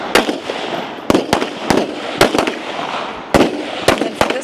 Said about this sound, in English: They need to get through 15 shots with that pistol